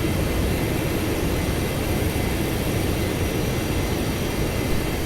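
Saab AJS37 Viggen jet touching down in the DCS World flight simulator, a steady loud broadband engine roar and rumble that holds constant throughout, with no talk.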